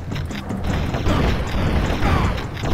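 Booming gunfire from Turok: Dinosaur Hunter, a dense, rumbling burst of low shots with explosive thuds, loud and continuous with no voices.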